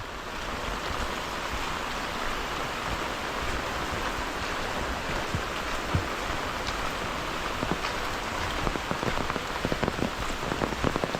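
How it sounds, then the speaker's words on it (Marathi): Heavy monsoon rain pours steadily and loudly in Konkan, a dense hiss of drops drumming on surfaces with no voices. "पाऊस पण वाढतोय"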